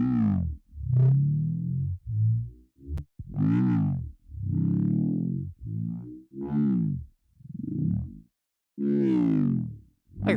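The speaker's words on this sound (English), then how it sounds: "And increase the distortion a little bit." Skrillex-style growl bass synth with added distortion, a series of loud, saturated, vowel-like wobbling notes in short bursts with brief gaps, played alone.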